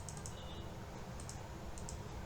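A computer mouse is double-clicked twice in quick pairs during Excel work, with faint, crisp taps over a steady background hum.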